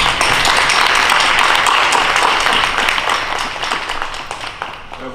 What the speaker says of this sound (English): You can give them a round of applause.